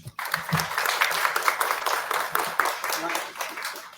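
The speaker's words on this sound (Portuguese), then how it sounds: "Palmas para ela, gente." Audience applause at a Spiritist institute's evening gathering for a visiting fraternity caravan, broadband clapping sustained for about four seconds with a few low voices mixed in.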